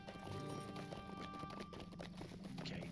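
A horse's hooves clip-clop in Lord of the Rings Online, a quick uneven run of moderately loud hoofbeats over faint background ambience, with no talk.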